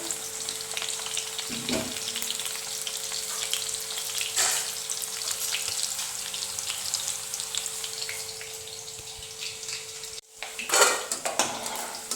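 Raw banana pieces fry in oil in a pan with a steady close crackling sizzle, broken by a few utensil clinks and a louder stirring scrape near the end.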